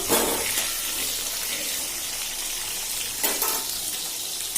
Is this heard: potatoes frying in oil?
yes